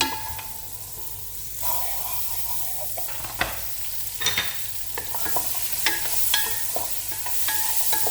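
Butter sizzling in a pan while shrimp machboos is prepared, a steady close sizzle broken by repeated scraping and clattering strokes of a utensil against the pan.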